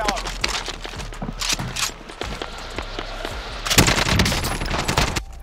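An RPD light machine gun fires in Call of Duty Warzone in repeated short bursts of rapid shots, some near and some more distant, with a longer loud volley near the end and a person talking over the action.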